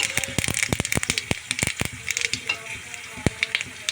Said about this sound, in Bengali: ওই তেলে দিয়ে দেবো আমি পাঁচফোড়ন